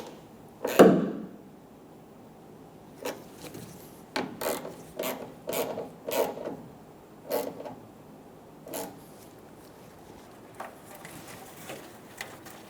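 Taillight screws on a 2014-2018 Chevrolet Silverado 1500 being driven in and snugged down, a string of short ratcheting, rasping turns in quick bursts with gaps, close and fairly quiet, no talking.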